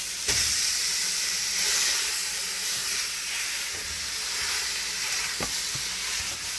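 Meat dropped into a hot pan bursts into a sharp sizzle, then settles into a steady hissing fry with a couple of knocks and scrapes of the pan, with no speech.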